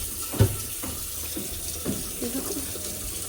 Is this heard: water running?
yes